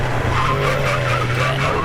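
A Mazda MX5 race car at Snetterton locks its tires under braking, giving a loud, sustained tire squeal and skid over the droning engine, close by.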